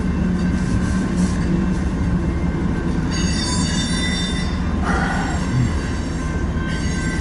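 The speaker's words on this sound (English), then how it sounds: "this is now a southbound coal drag here on the BNSF transcon line" A southbound BNSF coal train rolls past close by on the transcontinental line in Lincoln, Nebraska, a constant loud rumble with shrill wheel squeals rising over it in bursts.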